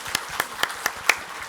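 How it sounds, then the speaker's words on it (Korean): Church congregation applauding after an infant baptism at a Korean Presbyterian Sunday service, heard as five or six distinct, evenly spaced claps or bursts rather than a sustained ovation, moderately loud in a reverberant hall. "우리 박수로서 축하해 주시기 바랍니다."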